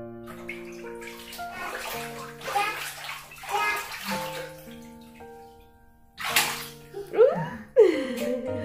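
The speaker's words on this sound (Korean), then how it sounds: "다시 물속으로 퐁당." A young child splashes and sloshes in warm bathtub water at close range, with the child's chatter and an adult's voice running between and over the uneven splashes.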